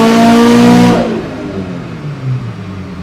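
A tuned Woolman 2.5L engine on ethanol fuel during a full-throttle pull, a loud, strained howl climbing in pitch that breaks off into a rough, fading drone and whir as the revs fall, heard up close with no talking.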